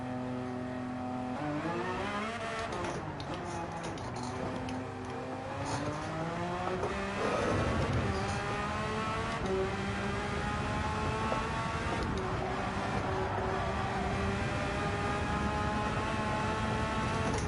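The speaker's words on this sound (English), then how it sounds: "in a Porsche GT3 car." A Porsche GT3 race car in the Gran Turismo 7 racing game, its engine revving hard and climbing through gears with rising and falling pitch, loud and continuous for the whole stretch.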